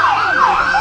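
Siren horn on a police motorcycle wailing loud and close, a rising and falling electronic tone cycling about twice in under a second.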